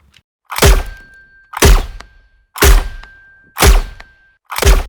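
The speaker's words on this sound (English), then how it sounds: "I actually wanted to add some sweetener that is sounding like dish." A dish-like metallic sweetener layer for a silenced shotgun sound design sounds as five separate sharp, heavy thunks at even intervals. Each hit is loud and close with a brief ringing tail, and there is no talk.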